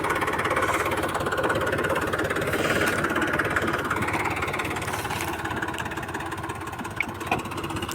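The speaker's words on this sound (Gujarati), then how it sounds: "લાઈન હારવા માટે ટ્રેક્ટરનો ઉપયોગ કર્યો ભાઈ ટ્રેક્ટર સિવાય લાઈન હારી ના" Steady tractor engine running throughout while a PVC pipeline is being laid, a continuous close idling drone with slight knocking vibration and a brief click near the end, no talk.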